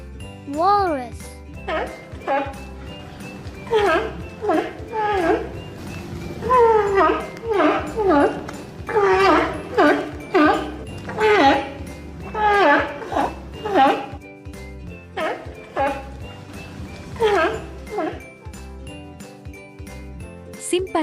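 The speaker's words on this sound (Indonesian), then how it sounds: "Walrus." A walrus gives a long run of short, honking, bark-like calls in uneven bursts, fairly close, with soft tinkling music underneath.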